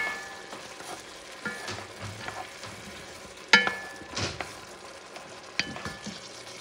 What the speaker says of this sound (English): Mix things up.